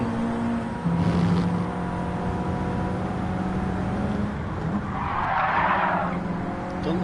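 A small yellow car in Gran Turismo 7 brakes hard into a corner, with a steady engine drone beneath tire squeal and skidding that swells loudly near the end.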